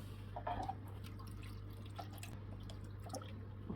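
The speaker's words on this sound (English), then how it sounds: "Let's see when it pours out from the hose. Slowly coming down there." Water trickling slowly from a hose onto potted orchids, a faint close patter of drips over a low steady hum, with no voices.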